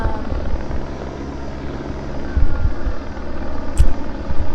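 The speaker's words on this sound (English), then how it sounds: "The helicopter is right above me." A helicopter hovers directly overhead, a steady close rotor rumble and low thumping that swells and fades across the whole stretch, with no voices.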